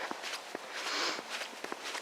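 Footsteps of a person walking along a roadside, a steady series of soft scuffing steps at a moderate pace under a faint background hiss of wind or traffic.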